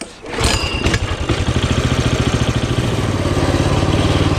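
A Coleman CT200U mini bike engine fires up after a short pull, then settles into a loud, close, steady rapid putter of small single-cylinder idle.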